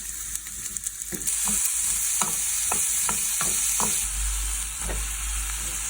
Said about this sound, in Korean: 얘네를 살짝 볶아서 좀 양파를 볶아